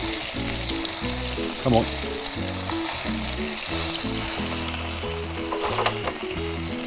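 A Western King Wrasse fillet, no batter or flour, fries in a pan with no oil, sizzling and crackling steadily and loudly throughout with a few sharper pops, while a voice speaks briefly over it.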